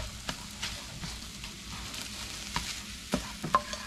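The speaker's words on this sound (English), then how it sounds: "you want to add a clump of butter in there. And let's stir that around." A clump of butter is stirred into eggs frying in a pan, giving a soft, even sizzle. Irregular light taps and scrapes of the utensil grow a little sharper near the end, fairly quiet and with no one speaking.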